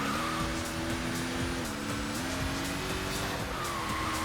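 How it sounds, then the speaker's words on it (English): Car engine from Sega GT Online, racing under load with a steady mid-pitched drone, faint turbo flutter and tire squeal, loud and continuous with no talking. "You could even hear like the little turbo, the fluttering noises."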